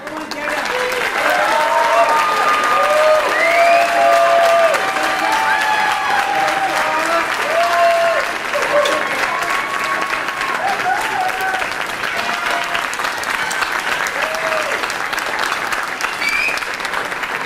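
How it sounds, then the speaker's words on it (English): A large gala audience in a grand hall gives a long, loud round of applause for a doctor, steady dense clapping sustained for well over fifteen seconds, with cheering voices and chatter woven through it. "Ladies and gentlemen, a big round of applause for this beautiful doctor."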